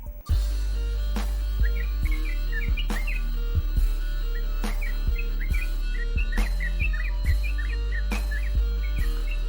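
A sooty-headed bulbul chirps in quick, bright bursts over a steady background, with sharp clicks and taps recurring roughly every second.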